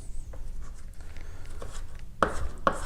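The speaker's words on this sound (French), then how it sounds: "on va juste couper un petit peu ça pour avoir des morceaux un peu plus petits" A knife cuts a hollowed butternut squash into smaller pieces in a quiet kitchen, with a few soft taps and then two crisp chops against the board near the end.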